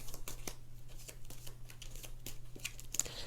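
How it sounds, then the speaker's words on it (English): A stack of cards from the Forbidden Island board game is shuffled by hand, a quiet series of rapid papery riffles and flicks over a low steady background hum. "So you take the flood discard pile,"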